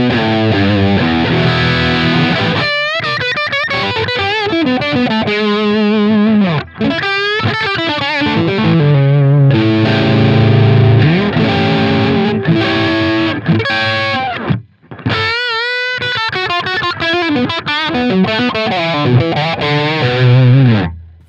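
A heavily distorted electric guitar through a Line 6 Helix Placater Dirty amp model and Greenback 25 cab plays riffs and bends, loud and saturated, with brief gaps between phrases and no voices.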